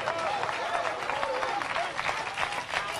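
A church congregation claps continuously and steadily for a few seconds, with mixed voices rising underneath.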